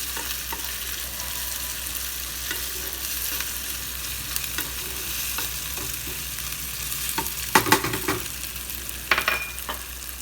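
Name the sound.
curry leaves frying in pan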